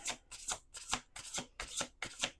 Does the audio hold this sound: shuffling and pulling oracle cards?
yes